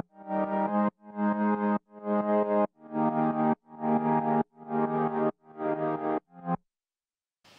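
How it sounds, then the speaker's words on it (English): Synth pad layer from a music production stack for a song, playing eight sustained, harmonically rich chords in an even rhythm with short gaps, followed by a brief silence. "The first is a pad."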